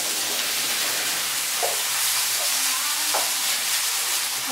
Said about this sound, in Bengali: এবার এর মধ্যে আমি কেটে রাখা লাউটা দিয়ে দিচ্ছি।